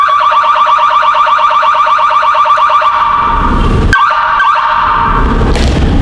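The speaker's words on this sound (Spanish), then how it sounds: "cuando se aleja el imán, está disparando la alarma" An electronic security alarm, triggered when a magnetic door sensor opens, sounds close and loud with a rapid warbling beep, then shifts into rougher buzzing tones.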